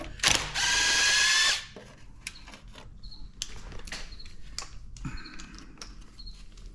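A power tool zips out bolts with a socket on a fire-damaged 455 Oldsmobile engine in a garage: a loud whirring burst of a couple of seconds, then clinks, taps and rattling of tools and parts.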